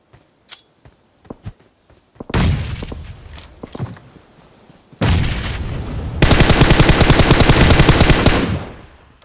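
Loud automatic gunfire and grenade blasts in PUBG Mobile, solo versus squad battle: scattered single shots, then heavy bursts and explosions, ending in a sustained rapid stream of fire, with no talk.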